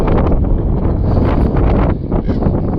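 Steady, loud cold wind on the Pacific coast buffeting the microphone, a continuous low roar with gusty rustling throughout and no voices.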